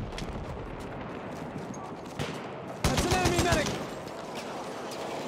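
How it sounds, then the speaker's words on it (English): Machine gun fire in the video game Battlefield 1 crackles in a short rapid burst midway, set against a dense, noisy battlefield din of scattered gunfire. "Machine gun! One of theirs!"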